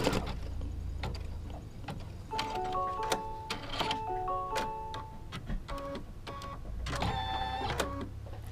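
An embroidery machine stitches a placement line on quilt block fabric, a quiet rapid mechanical ticking and clatter with brief beeping tones, steady and close with no talking.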